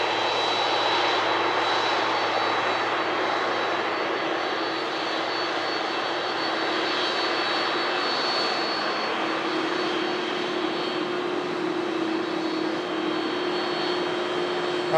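A Boeing 767 airliner glides past at Manchester Airport, its jet engines giving a loud, sustained broadband roar with a steady whine that holds for the whole stretch, with no talking.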